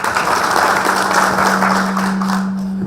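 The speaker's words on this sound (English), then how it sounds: "I want to ask you to give him a clap." Sustained audience applause fills a public event at the Elgeyo Marakwet County Public Service Board strategic plan launch. The clapping is dense and steady for about three seconds, with a faint low hum underneath and no speech.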